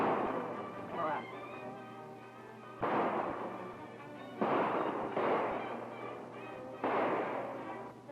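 A 1935 western film shootout: gunshots boom out as several dull, heavy blasts spaced a second or two apart, mixed with background noise and voices from the scene.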